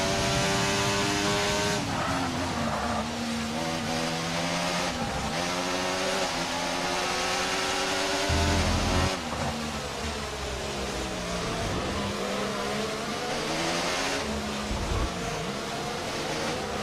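Formula 1 race car engines scream in the racing game F1 24, high revving whines rising and dropping as cars shift gears and pass close by, loud and continuous throughout.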